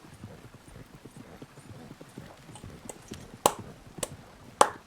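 Horse hooves clip-clop in a steady rhythmic patter as a horse is ridden in Red Dead Online, moderately close, with a few sharper clacks near the end and no talk.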